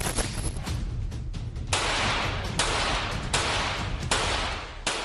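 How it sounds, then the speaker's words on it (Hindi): Rapid bursts of fire from an Indian-made carbine emptying a full magazine, loud and close, with dense overlapping shots and several sharp heavier cracks standing out through the stream. "ट्रिगर दबाते ही पूरी की पूरी मैगजीन खाली।"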